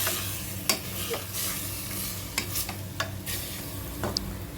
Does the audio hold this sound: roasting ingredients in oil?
yes